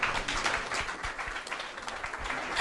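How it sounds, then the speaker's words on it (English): Audience applause for the panelists at an AI and Web3 summit session, a dense continuous patter of many hands clapping, fairly loud and sustained for a few seconds. "let's give a round of applause to the panelists."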